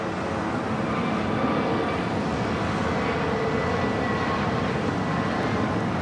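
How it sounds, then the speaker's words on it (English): A United Airlines Boeing 737-900ER arriving at LAX from Chicago O'Hare, a constant broad engine rumble with steady loudness throughout, no voices. "That is United Airlines Flight 1712 coming in from Chicago O'Hare"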